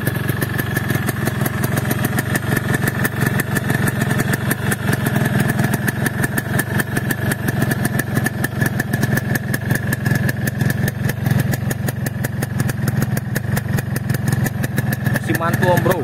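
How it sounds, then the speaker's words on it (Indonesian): A 2003 Yamaha RX King two-stroke motorcycle engine runs at a fast, even idle, its loud buzzing pulses close and continuous throughout, with someone talking over it at times. "Kita akan dengarkan suara dari engine-nya Om Bro ya."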